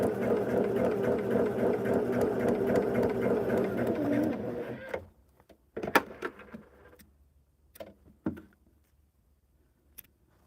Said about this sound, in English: And then turn it over and stitch on that line.